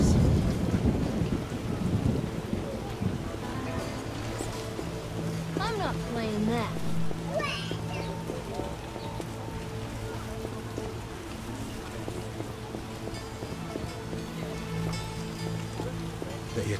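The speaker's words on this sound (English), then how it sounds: "when will this rain stop?" Steady rain patters under a rolling thunderstorm in The Witcher video game, with a heavy rumble at the start fading into continuous downpour, while people talk over it.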